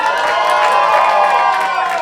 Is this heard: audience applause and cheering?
yes